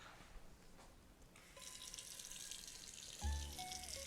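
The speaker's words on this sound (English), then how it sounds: "let's start getting some water going for the pasta" Tap water starts running into a pot being filled for pasta, a steady hiss joined by a louder, deeper gush as the stream hits the pot, close and alone with no voices.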